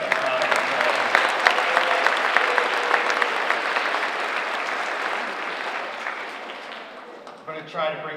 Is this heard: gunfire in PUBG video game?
no